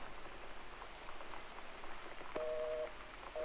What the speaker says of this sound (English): there's a storm happening.